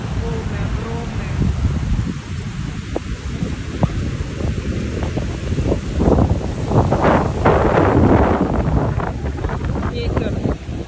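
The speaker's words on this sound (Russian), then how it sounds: "Ветер бушует." Strong stormy wind roars along the coast at Grechanka, buffeting the microphone in loud, ragged gusts that swell toward the end. Rustling and surf noise sit underneath, and a voice can be heard faintly.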